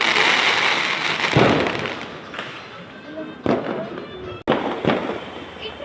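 Fireworks and firecrackers go off in a village street during a celebration, with sharp loud bangs and thumps over a continuous crackling roar. People talk throughout the bursts.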